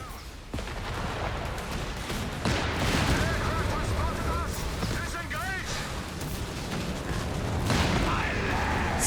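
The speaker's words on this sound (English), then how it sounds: "That's enemy fire!" Rapid, layered gunfire and booming explosions from a World War II strategy game match on a beach map, with dense rattling volleys and heavy impacts rolling continuously while a commentator's voice talks over the battle.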